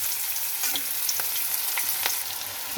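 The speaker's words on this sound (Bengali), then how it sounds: "এবার আমি পেঁয়াজগুলো একটু ভেজে নেব, খুব বেশি ভাজবো না" Onions frying in a pan of oil already used for frying fish, with fenugreek seeds added, giving a steady close sizzle broken by occasional soft stirring clicks; nobody speaks.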